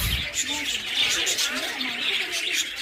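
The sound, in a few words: lovebirds chirping in a park aviary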